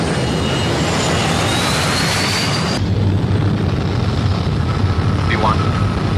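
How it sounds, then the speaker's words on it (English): Airliner engines roar steadily from inside the cabin during takeoff, a loud, dense rumble that shifts in tone partway through, with a faint voice in the background. "Flight attendants, please prepare for takeoff."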